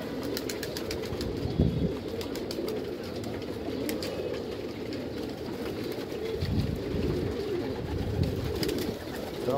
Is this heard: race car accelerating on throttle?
no